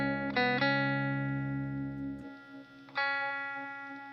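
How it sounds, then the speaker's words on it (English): Electric guitar with the Walrus Slotva pedal switched off gives a dry tone: a sustained chord fades, then a fresh strum rings out clearly, close and alone. "So let me show you guys how it sounds when I turn the pedal off."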